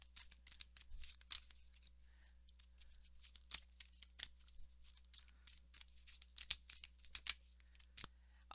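Tarot cards are shuffled close by, with soft papery riffles and slides in irregular bursts, quiet and without talk.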